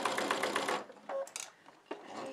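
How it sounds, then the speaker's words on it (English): A sewing machine stitches a coiled rope bowl with a short, close run of stitching, followed by a few faint clicks and handling noises. "I'm going to stitch a little further."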